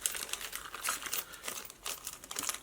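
A plastic bag holding telescope mounting bolts, nuts and washers crinkles and rustles up close in a dense run of small crackles, with no voices.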